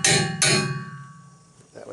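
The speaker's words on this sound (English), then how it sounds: "I got them tightened down with the hammer here." Two sharp, ringing metallic hammer blows land about half a second apart while tightening down a hitch, each ring fading slowly into quiet.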